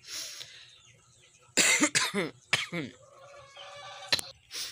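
Several harsh, close coughs from a sick person in a quick cluster, followed by a quieter stretch with faint background sounds and one more short cough.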